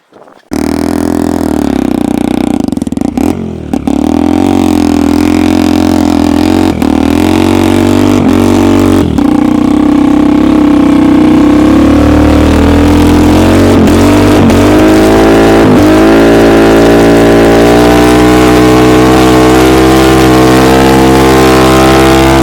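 A homemade snowmobile on a homemade track drives through deep, heavy snow, its engine droning loud and close for the whole stretch, the pitch rising and falling with throttle changes and occasional strain.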